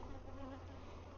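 Honey bees buzzing in a steady, close drone while a beehive is opened for inspection, with no talking.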